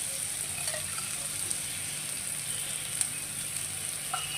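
Cumin seeds and asafoetida sizzling in hot oil to temper boiled dal: a steady, soft crackle punctuated by a few sharp pops, with no voices.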